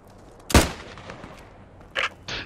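Post Scriptum battlefield fire comes as one sharp, close report followed by two fainter, more distant bursts of machine gun fire, with no voices.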